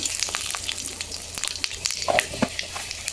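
Panch phoron spices crackle and sizzle in hot oil in a home kitchen while a vegetable dish is being started, with a steady bright frying hiss and scattered sharper pops, close and fairly loud.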